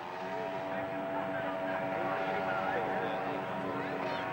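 Twin 62 cc engines of a model racing boat drone steadily and loudly throughout, a continuous buzzing roar with people talking over it.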